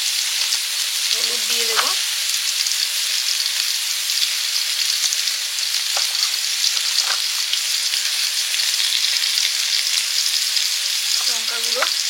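Eggplant with a little salt fries steadily in a pan, a loud continuous sizzle with occasional stirring scrapes, while a voice speaks briefly near the start and again at the end.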